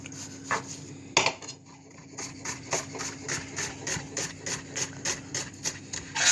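Seafood for a shellfish cocktail being cut with a knife on a board, a run of steady rhythmic chopping taps, close and moderate, after a couple of louder knocks, over a low background hum.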